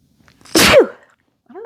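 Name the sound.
sneeze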